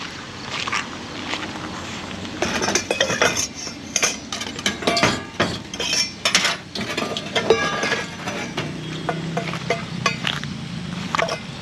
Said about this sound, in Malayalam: പാത്രങ്ങളെല്ലാം ഒന്ന് അവിടെ നിന്ന് കഴുകിയിട്ട് വരാം.